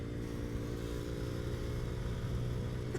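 A 2020 Venom X22 motorcycle engine held at full throttle mid-turn, a steady, loud droning buzz that runs unbroken for the whole stretch without any speech.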